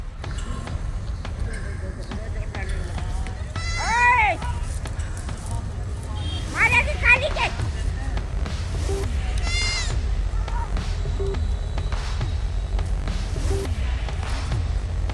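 Goats bleat in short, wavering calls spread across a village scene, several separate cries over a steady low outdoor background, with people talking around them.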